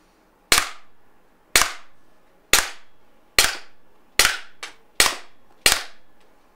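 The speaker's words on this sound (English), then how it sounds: "Okay, we did 8 shots." Eight sharp shots from a RAM combat pistol fire at an even pace roughly one per second, each a crisp loud crack with a short decay, close to the listener with no talk.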